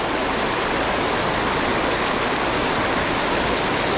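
Water in a fairly deep stream flows with a steady, loud, continuous rushing hiss, close by and unbroken, with no voices over it.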